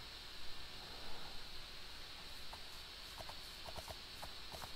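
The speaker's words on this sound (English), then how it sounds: "Found a horse." Horse hooves in the Minecraft video game: faint, scattered clip-clop steps in irregular bursts over a steady hissing background.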